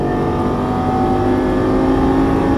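A Lamborghini Gallardo LP550-2 engine revs steadily at full throttle on a racetrack, a loud, sustained, close-up roar with strong harmonic drone and no talk over it.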